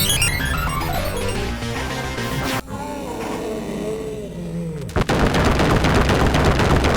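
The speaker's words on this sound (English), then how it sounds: "I can understand Krang making that explosion when he dies" Arcade explosion from Konami's 1989 Teenage Mutant Ninja Turtles game as the boss Krang dies: loud crackling noisy bursts and descending synthesized tones, a brief dip, then a renewed roaring blast.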